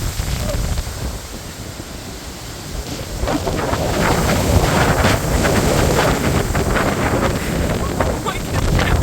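Strong gusting wind at Alton Towers theme park during a windstorm, a loud roaring rumble buffeting the microphone, swelling halfway through and staying heavy and continuous.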